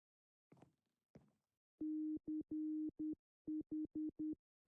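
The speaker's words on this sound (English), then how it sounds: "it's our favorite thing in the whole entire world. Morse code." A Minecraft music disc audio log plays Morse code: two faint clicks, then a string of loud, steady electronic beeps of mixed long and short lengths with crisp gaps between them.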